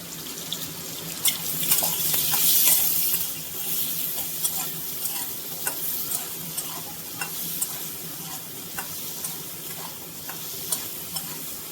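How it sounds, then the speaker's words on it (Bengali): Amra (hog plum) pieces frying in oil with salt and turmeric for a Bengali dish, a low sizzle broken by repeated sharp clicks and scrapes of a spatula stirring the pan. "দিয়ে 1 মিনিট মতো ভেজে নেব আমড়াগুলো।"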